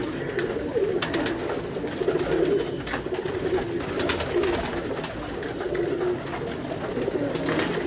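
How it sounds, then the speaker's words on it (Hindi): Pigeons on a rooftop coo softly and repeatedly over a steady background hum, with occasional wing flutters and rustles. "ये ऊपर तरह ये कांटों वाले कबूतर हैं"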